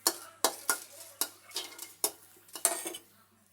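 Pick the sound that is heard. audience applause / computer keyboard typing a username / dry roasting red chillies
dry roasting red chillies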